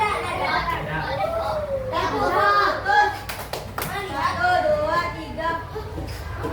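Fourth-grade primary school pupils in a classroom clap and chant together in a lively group routine, their many overlapping voices loud and close, with rhythmic hand claps running beneath.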